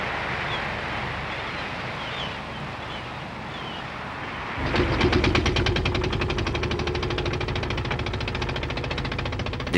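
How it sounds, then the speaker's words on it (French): Boat engines in a Breton harbour start up, breaking into a steady, rapid sputtering putter that sets in midway after quieter wind-blown ambience and continues close and fairly loud. "Désormais, tous les ports de Bretagne se réveillent dans la pétarade des moteurs."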